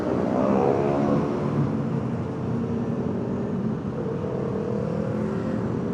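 A motorcycle rides through Jakarta traffic at night, passing through Condet, its engine droning up and down under steady road and wind noise with other vehicles around, with no one speaking.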